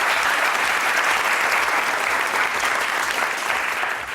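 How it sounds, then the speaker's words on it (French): A loud, dense burst of audience applause at a televised talent show, many hands clapping continuously and evenly throughout. "Tonnerre applaudissements, le public."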